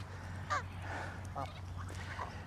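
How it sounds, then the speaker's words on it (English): Geese give a few short honks close by, scattered across a couple of seconds over a low background hum. "People get frightened of geese, they don't trouble me."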